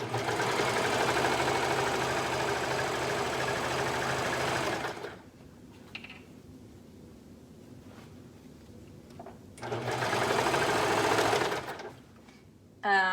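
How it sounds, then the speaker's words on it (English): A sewing machine stitches the inseam of two-way stretch fabric in two fast, steady bursts of close, buzzing mechanical whir, separated by a quieter pause with faint handling noises. "We're gonna sew up the inseam, okay, on both legs."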